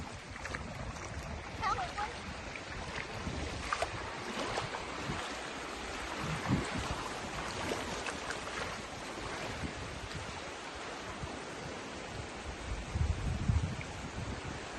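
Sea waves wash along a beach as someone walks through shallow water, a broad, rough wash of surf and splashing with wind, and people talking intermittently over it.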